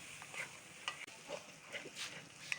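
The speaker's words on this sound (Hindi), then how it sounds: "तो अब हिलाएंगे अच्छी तरह से" Semolina being stirred in a pan, soft scraping and rustling strokes that repeat at an uneven pace, faint and close, with no talking.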